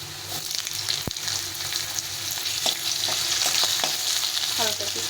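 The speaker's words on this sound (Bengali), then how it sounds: "আলুটাকে একটু ভেজে নেব" Potatoes fry in oil with a loud, dense sizzle up close. Spatula stirring adds occasional scrapes and a single sharp clink.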